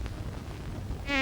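Flies buzz in a low, steady drone close by, with a brief higher whine rising at the end, no voices.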